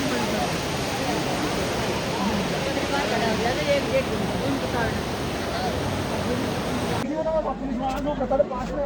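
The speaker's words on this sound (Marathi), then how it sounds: "कुंड गरम पाण्याचं कुंड पाणी भरपूर येत आहे बरं का इथं" Hot spring water at Badrinath pours into a kund in a loud, steady rushing wash that fills the whole stretch, with a voice talking over it and crowd murmur behind.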